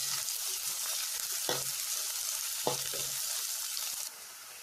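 Capsicum and spring onions frying in a pan for a veg Manchurian gravy, a steady close sizzle with two brief scraping stirs partway through, no voices, the hiss dropping lower near the end.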